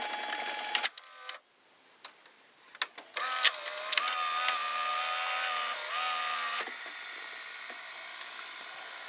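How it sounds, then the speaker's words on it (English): Small motor turning inside a JVC VCR mechanism, a close, whirring mechanical buzz with clicks and whines that starts and stops in short bursts before settling into a steady, quieter hum. "this motor is turning"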